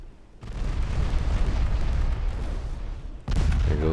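An enemy ship's bow torpedo launcher explodes in a 1954-era naval battle game, a long rumbling boom with a sustained roar, cut off and followed by another heavy burst, with no voices.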